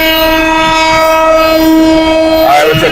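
A train from Spanish Town to Old Harbour, Jamaica rumbles along close by while a loud sustained horn blares, its tone shifting near the end amid mechanical clatter.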